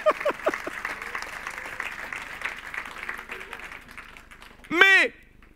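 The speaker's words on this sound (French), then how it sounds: "Vous pouvez applaudir." A church audience applauds in a dense patter of clapping that thins and fades over several seconds, ending with a short, loud vocal whoop.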